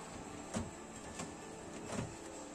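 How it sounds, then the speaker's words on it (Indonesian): Drawers of a Samsung side-by-side refrigerator (RH64A53F1B4) sliding on their runners, with three soft rumbling pulls a fraction of a second apart at close range and no voices. "cukup ditarik lacinya dan laci paling bawah tidak bisa ditarik apabila laci di atasnya terbuka"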